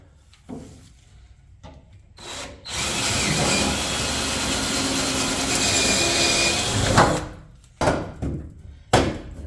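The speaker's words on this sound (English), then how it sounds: "I'm enlarging the hole to a 1/4 inch." Power drill boring out a hole to 1/4 inch in an aluminum boat hull, a loud steady whine running for about five seconds with a higher metallic squeal, framed by scattered clicks and handling noises before and after.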